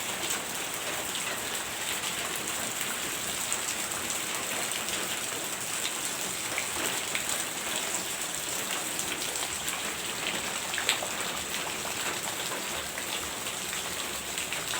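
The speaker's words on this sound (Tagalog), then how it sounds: "Ang ulan sa labas." Steady rain pours outside, a dense continuous hiss of drops on surfaces, even and unbroken with no voices.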